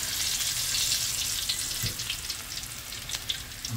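Enoki mushrooms coated in breadcrumbs and flour sizzle and crackle steadily in hot oil, a close, continuous frying hiss with small pops throughout and no talking.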